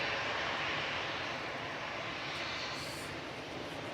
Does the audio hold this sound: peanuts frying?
no